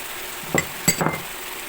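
Turmeric, red chili and Kashmiri chili powders frying for chicken curry, heard as a low sizzle with two or three brief spoon scrapes against the pan, close and alone.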